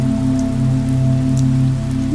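Steady rain falls continuously, close and loud, with a low constant hum running beneath.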